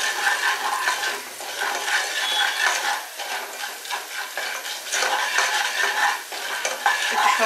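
Corn kernels frying in oil in a pot on the stove while being stirred continuously, a dense steady sizzle with scraping and rustling, close and fairly loud, no voices.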